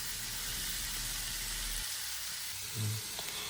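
Tomatoes sautéing in a pan for tomato chutney after the onions have softened, a steady close sizzle and fry hiss throughout with a brief stir or clatter near the end.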